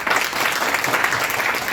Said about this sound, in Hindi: उनके लिए जितनी तालियां बजाएंगे बिल्कुल कम होगी